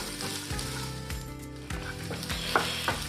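Sliced onion sautéed with browned coconut pieces in a pan for spicy beef kondattam, a steady sizzle with a few soft stirring scrapes, close and fairly quiet, no voices.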